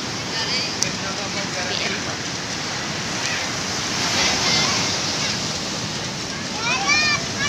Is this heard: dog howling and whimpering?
no